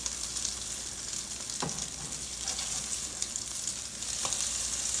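A protein pancake frying in butter in a pan, a steady close hiss and crackle of sizzling fat with a few faint scrapes, with no talking.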